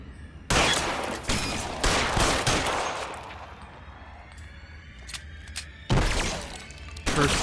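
Gunfire in the L.A. Noire Remastered video game: sharp, loud shots crack in rapid bursts with shattering impacts, then a quieter lull before another heavy volley near the end.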